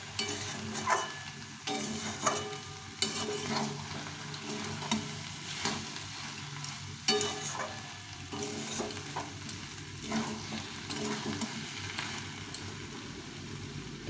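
Bottle gourd curry with fish head being stirred and sautéed in a pan, a soft continuous sizzle broken by repeated scraping strokes of the spoon at an irregular rhythm, close and moderately quiet.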